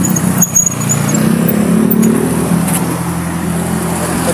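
Road traffic in Compostela passes close by a cyclist: loud, steady engine drone from cars and motorcycles with a brief squeal early on.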